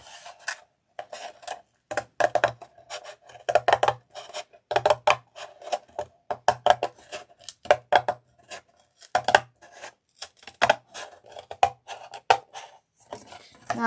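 Scissors snipping the side flaps off a cardboard box, a steady run of short crisp cuts and rustles close by, irregular bursts with brief pauses between them, no voices.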